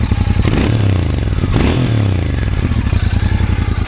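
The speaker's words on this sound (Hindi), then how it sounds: "तो ये आप इसका साउंड जो सुन रहे हैं आइडियल साउंड है।" A Royal Enfield Continental GT 650 with an inline twin engine and twin silencers idles loudly up close, a deep pulsing exhaust thump with two quick revs blipping up and settling back.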